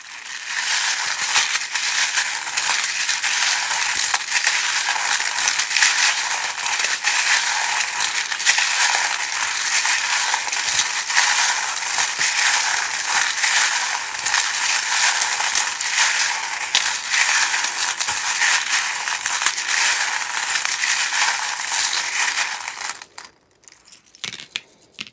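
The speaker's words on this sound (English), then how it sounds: "if you don't like the sound of the charms being shuffled, then maybe turn the volume down a little bit" Tarot cards with metal charms shuffled continuously, giving a dense, steady metallic jingling and rattling close by for over twenty seconds before stopping abruptly, with a few brief clinks at the end.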